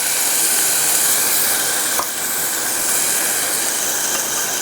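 Loud, steady hissing sizzle as water hits a hot pan of okra and tomato curry, a continuous broadband steam sound with no talk.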